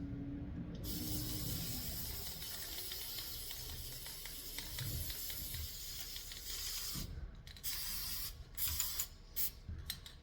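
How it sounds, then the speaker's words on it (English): Steady hiss of spray paint from a can onto a wooden Valentine decoration, continuous for several seconds, then a few short bursts toward the end, close and fairly loud. "I might as well spray paint these"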